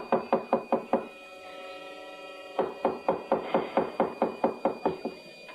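A fist pounds on a wooden apartment suite door in two rapid runs of loud, close knocks, first about five blows, then after a pause a longer volley of a dozen or so, with a faint hum between.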